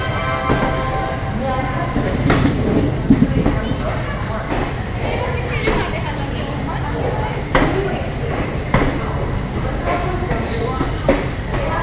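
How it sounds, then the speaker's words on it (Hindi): Saryu Express pulling in at platform 1 of Pratapgarh Junction, an Indian railway station: a steady heavy rumble with repeated wheel clacks and thumps, while voices and a platform announcement carry faintly underneath. "सरयू एक्सप्रेस मलकापुर जंक्शन से चलकर मां बेल्हा देवी धाम प्रतापगढ़ जंक्शन"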